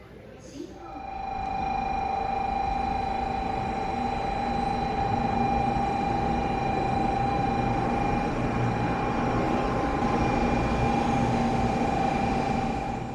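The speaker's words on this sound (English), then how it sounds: "So next up we'll be hopping on the Shinkansen from Kokura Station to Shin-Yamaguchi." Inside a Shinkansen bullet train travelling from Kokura to Shin-Yamaguchi, a steady rolling rumble with a high tonal whine holding throughout, fairly soft and unbroken, with no talking.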